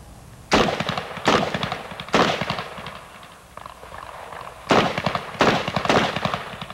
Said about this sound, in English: It's got a 30 rounds in its magazine, and he will be firing it now.